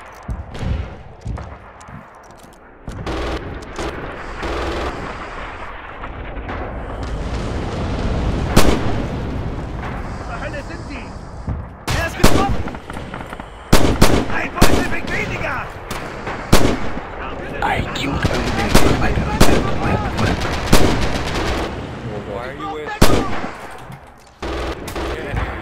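Machine gun fire in the video game Red Orchestra 2, loud bursts and single cracks stuttering irregularly amid heavy battlefield booms, starting after a brief quiet lull and continuing in rapid clusters to the end.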